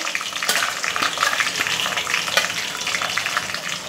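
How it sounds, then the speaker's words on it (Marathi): Tomato and onion paste frying in hot oil for an Indian-style chicken gravy, a loud close crackling sizzle with bursts of spattering as it is stirred, no talk. "पेस्ट करून घेतली आहे ती आपण तेलावर टाकली। आता आपण तेलावर परतवून घेऊया।"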